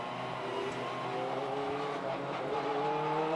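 BTCC touring cars weave at low speed behind the safety car at Brands Hatch, with a steady layered engine drone that rises slightly in pitch toward the end.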